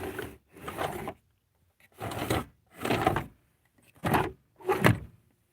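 Three drawers in a camper kitchen slide open and shut in six distinct scraping strokes, each a short rolling rumble close by, separated by brief silences.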